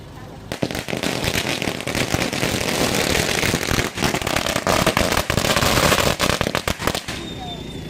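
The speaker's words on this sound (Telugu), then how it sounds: "టపాసులు కాలుస్తున్నా" Firecrackers burst in a dense, loud, continuous barrage of rapid cracks and pops, nearly unbroken for several seconds before stopping abruptly.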